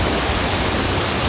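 Hindhope Linn waterfall in Northumberland, a steady, dense roar of falling water close by, broad and unbroken across the whole moment with no talking.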